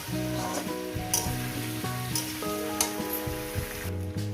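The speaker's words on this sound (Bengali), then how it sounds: "তিন চার মিনিট ধরে আরও সবজির সঙ্গে ভেজে নেব" Vegetables for Bengali shukto sizzle and crackle steadily as they fry in a pan, with occasional sharper spits. Background music with sustained tones plays underneath the frying.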